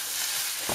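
A bao filling being mixed in a pan, with a soft, steady sizzle and a brief scrape of the utensil near the end, close and alone without voices.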